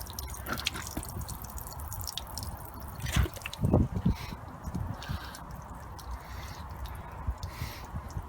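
Water pouring out of a Volkswagen T5 windscreen washer fluid bottle during a flush, a steady close trickle and splatter with a few louder gushing bursts midway, no talking.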